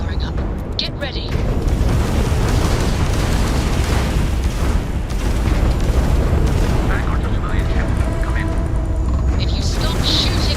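Ship weapons fire on the player's spaceship in Starfield, making a dense, loud, rumbling barrage of booms and blasts that runs for about ten seconds with no break.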